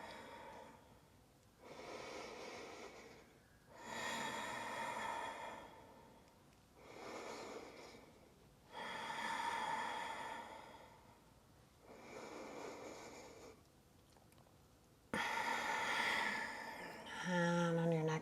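Slow, deep breathing held in a yoga twist pose during an Ashtanga standing series: long, airy inhales and exhales in an even rhythm of about four cycles, close and fairly soft, with a faint voice near the end.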